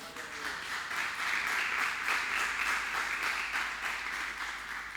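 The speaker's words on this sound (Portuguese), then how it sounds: "Você pode dar um aplauso ao Senhor aí?" Congregation applause inside a church service, a moderate, even patter of clapping from many hands lasting several seconds at middle distance.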